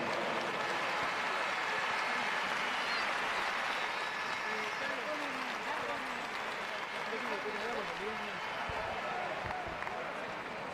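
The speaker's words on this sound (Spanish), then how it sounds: "Forte, forte aplauso para as estrellas deste partido." A football crowd applauds the stars of a legends versus all-stars match, a broad, distant wash of clapping and crowd noise with voices and shouting mixed throughout.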